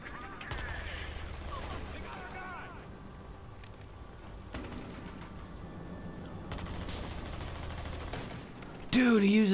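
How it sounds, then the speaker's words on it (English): Gunfire in Battlefield Hardline, with bursts of loud shots coming in several clusters between quieter stretches, ending in a louder burst near the finish. "Dude, he used a shotgun."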